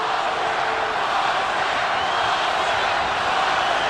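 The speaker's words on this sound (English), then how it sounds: "Crowd is chanting, Oscar, Oscar" A large arena crowd at the Oscar De La Hoya vs Bernard Hopkins boxing match roars steadily, a dense and loud wash of cheering and chanting that holds without a break.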